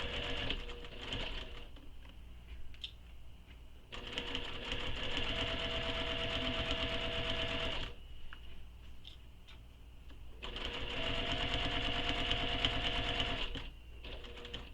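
Sewing machine stitching a crossbody bag, running in steady whirring bursts of several seconds separated by brief pauses, close and alone.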